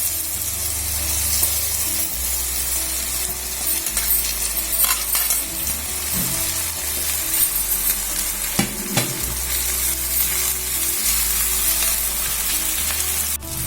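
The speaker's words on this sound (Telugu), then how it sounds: "ఇప్పుడు తరిగి పెట్టుకున్న గోంగూరని వేసుకుందాము" Chopped gongura leaves sizzle steadily in a pan while being stirred, with a low mechanical hum under the frying and occasional scraping clatters of the utensil.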